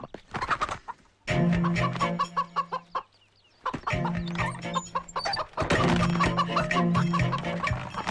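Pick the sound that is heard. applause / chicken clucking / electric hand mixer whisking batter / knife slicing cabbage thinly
chicken clucking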